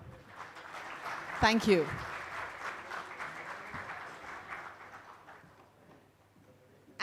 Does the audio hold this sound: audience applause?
yes